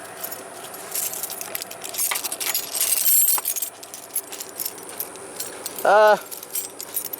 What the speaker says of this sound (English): take the keys out of my pocket